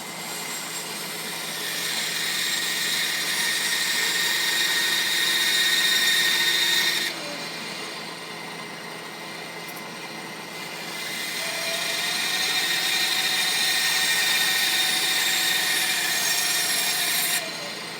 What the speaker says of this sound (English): We're gonna trim these little eye guards off a little bit on the bandsaw